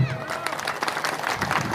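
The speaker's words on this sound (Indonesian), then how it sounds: "Tepuk tangan dulu" An audience at an Indonesian public talk applauds briefly, a short burst of scattered clapping mixed with crowd murmur.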